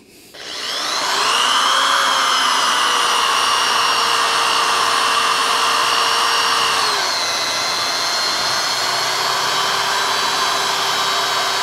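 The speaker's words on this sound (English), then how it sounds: "I'm just going to drill down here and hold that bubble level" A corded power drill bores down into the ground for a chain harrow storage post. Its motor gives a loud, steady whine that drops slightly in pitch partway through and then runs on evenly, close by, with no talking.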